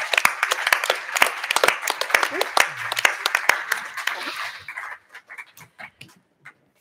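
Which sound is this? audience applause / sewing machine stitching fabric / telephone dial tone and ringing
audience applause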